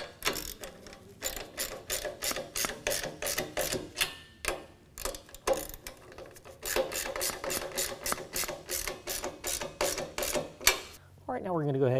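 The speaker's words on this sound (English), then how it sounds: "I'm going to snug that up with a 10 millimeter." Ratchet with a 10 mm socket tightening a bolt on a utility trailer, rapid close clicking in bursts of strokes with short pauses, ending in a brief rattle, no talking.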